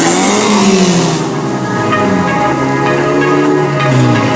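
Stunt cars at a motor show rev their engines loudly and continuously nearby, the engine pitch rising and falling in overlapping waves.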